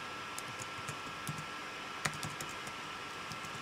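Code is typed on a computer keyboard in a quiet room, a sparse series of faint individual key clicks with one sharper tap midway, no talking.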